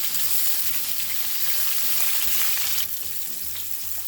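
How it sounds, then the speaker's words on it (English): Garlic butter salmon fries in oil in a pan with a loud, dense and continuous sizzle that eases slightly near the end. No voices are heard. "See how the salmon has started to cook, and you can see the change in the texture on the side"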